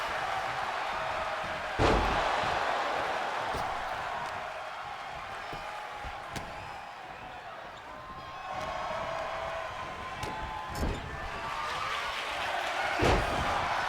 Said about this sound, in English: Beautiful neck breaker by the newcomer there.